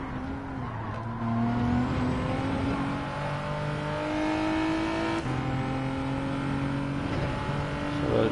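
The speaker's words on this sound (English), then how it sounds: "So we're revving just as the rev counter gets above the gear number there." A car engine revs up through the gears in a racing video game, a loud steady whine that climbs in pitch, drops at each shift and climbs again, repeating several times with no pauses.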